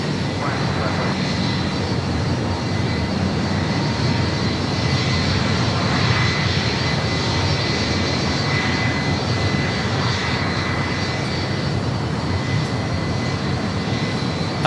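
United airliner landing at LAX, a steady, loud jet engine roar that runs for the whole stretch without letting up, with faint radio voices underneath.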